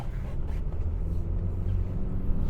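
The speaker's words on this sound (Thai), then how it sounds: "นี่กดแค่ครึ่งคันเร่งนะ อันนี้คือกดเต็ม" Engine of a 2019 Honda Civic 1.8 EL revving under throttle, a steady low, loud rumble that holds evenly throughout without clear peaks or pauses, with no talking.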